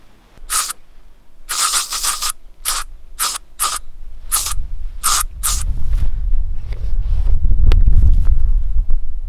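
Mosquito repellent spray from an aerosol can hisses in about nine short bursts of varying length, close and loud, while a low outdoor rumble builds beneath at a campsite among trees.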